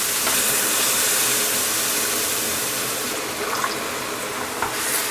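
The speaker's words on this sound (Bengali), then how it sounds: "হাফ কাপ পানি দিয়ে দিলাম" Half a cup of water poured into spices frying in a pan sets off a loud, dense hissing sizzle that holds steady throughout, with a slight bubbling change near the end.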